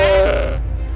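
A video game goat death cry blended with a door opening, heard as a loud, short strained bleat-like groan that sags in pitch and fades within a second, with no speech.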